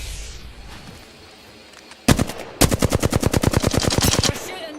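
Rapid automatic gunfire in a shooter video game, a burst of a few loud shots followed by a long, steady volley of evenly spaced rounds close up, over a low background hum.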